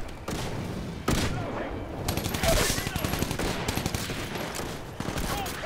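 Rapid muffled gunfire from a suppressed weapon in the shooter game Titanfall, steady bursts of dull thumping shots that run through most of the stretch after an opening impact, loud and close.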